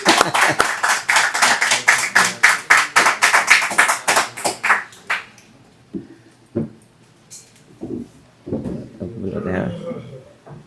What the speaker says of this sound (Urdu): تالیوں سے شامل ہو جائیں.